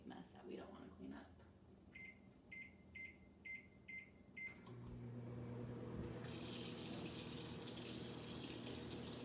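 A microwave oven melting butter at 50% power for 30 seconds hums steadily with a low drone, after a run of short repeated beeps; faint voices are heard early on.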